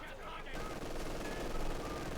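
Machine gun fire from an MG42 in the strategy game Company of Heroes 2 forms a dense, steady roar of rapid shots, with a commentator's voice talking over the battle noise throughout.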